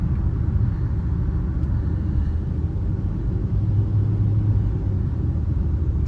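Hyundai Creta Action 1.6 from 2022 on a highway run, its steady low engine and road rumble droning continuously from inside the cabin with no breaks.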